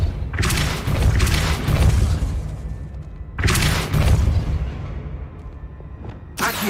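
Depulso spell bursts in Hogwarts Legacy played on Xbox in hard mode, two loud booming whooshes a few seconds apart with rumbling tails, followed by the start of a third.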